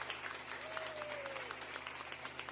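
Applause sound effect triggered from a programmed soundboard button during a casual livestream, a steady dense crowd-clapping track, moderately loud and continuous, with a faint tonal sweep passing through it.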